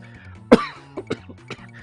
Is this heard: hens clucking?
no